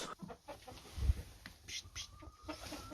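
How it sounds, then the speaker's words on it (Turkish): Hens clucking in short, uneven bursts at close range inside a chicken coop in Alaska, with shuffling and scraping noises mixed in. "Tavuk kümesi var, onlarla ilgileniyoruz tavuklarla."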